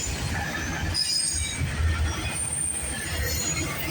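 CPKC freight train 134 rolls past near Milton, Ontario, its wheels squealing in long shrill tones over a heavy low rumble of railcars, loud and close throughout with no talking.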